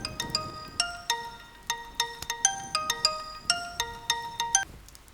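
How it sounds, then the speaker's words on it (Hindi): A phone ringtone plays a repeating bright electronic melody, several rising note patterns in steady succession, loud and alone. "फोन आया है।"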